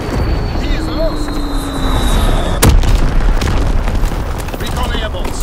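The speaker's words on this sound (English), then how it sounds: "Firing for full effect. Target zone locked. Dropping Fritz X" In a war video game, a Fritz X guided bomb lands with a single loud, sharp boom midway through, set against continuous rumbling battle noise, a descending whistle before impact and clipped radio-style game voices.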